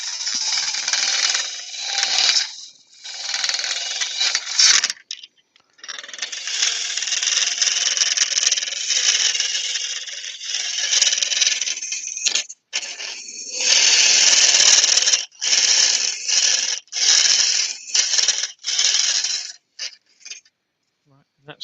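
A wood lathe turns a laburnum log in reverse with a round carbide tool, giving bursts of scraping, chattering cutting noise that stop and restart in uneven stretches with brief silent gaps between passes.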